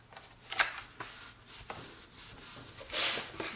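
Cardboard being folded and creased by hand for a keepsake box, quiet, close rubbing and papery scraping strokes in short bursts, with a longer scrape near the end.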